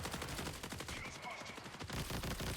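Sniper and automatic gunfire crackle in the video game Marathon, a dense, loud string of sharp shots and bursts with a brief whine in the middle, all alone without talk.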